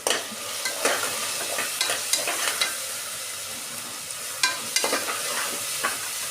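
Spices and chicken sizzle steadily in a pan for biryani, with repeated sharp scrapes and clinks of a stirring spoon cutting through the constant frying hiss.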